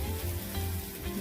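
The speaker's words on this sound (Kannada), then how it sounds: "ಇವಾಗ ಈ ಮಸಾಲೆನ ಹಾಕಿ ಚೆನ್ನಾಗಿ ಮಿಕ್ಸ್ ಮಾಡಬೇಕು" Masala for a hog plum pickle sizzles and fries in a pan while being stirred, a dense, continuous crackle heard close up with no talking.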